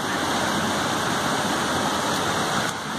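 Water rushing over rocks near a waterfall in a natural setting, a loud, steady broadband roar that holds unbroken for the whole stretch with no voices.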